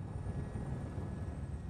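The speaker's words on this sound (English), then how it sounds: "helicopter is given the all clear to land" A helicopter cleared to land at a Tokyo heliport after the 2011 earthquake gives a steady low rotor and engine drone, faint and even, with no voices over it.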